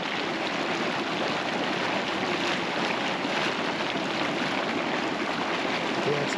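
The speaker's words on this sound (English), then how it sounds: "And here's everyone's favorite boiling mud." Boiling mud pots at Sulphur Works churn in a continuous broadband bubbling and gurgling wash, steady and fairly loud with no pauses, like rushing water.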